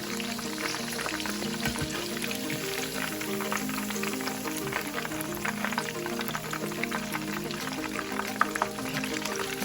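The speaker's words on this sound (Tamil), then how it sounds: "இப்படி நாங்கள் முழுக்கலையும் பொரிச்சு எடுப்போம்" Chicken pieces frying in hot oil for Sri Lankan-style salsa chicken, a dense, steady bubbling sizzle running throughout at an even level with no talk.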